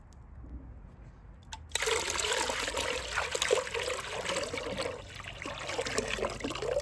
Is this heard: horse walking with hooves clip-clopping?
no